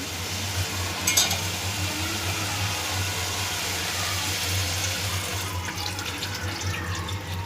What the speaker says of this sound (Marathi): आता आपण त्यामध्ये गरम पाणी टाकणार आहे